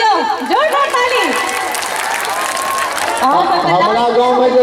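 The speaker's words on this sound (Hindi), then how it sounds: "एक बेर जोरदार ताली महिला सभक नाम पर बजाबियो, जोरदार ताली" An audience claps in a sustained burst in honour of women at a stage song programme, the applause swelling under an amplified voice that speaks before and after it.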